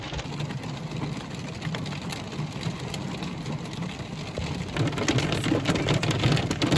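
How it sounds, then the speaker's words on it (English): Dense, continuous pattering of hail striking surfaces outdoors in Colorado, steady throughout and growing slightly heavier toward the end, with a low rumble underneath. "The hail's getting really heavy."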